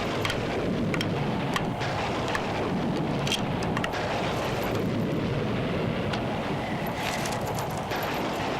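A thunderstorm on a stormy night: steady heavy rain with a dense hiss throughout, low rumbling underneath and scattered sharp crackles, continuous and loud, with no voices.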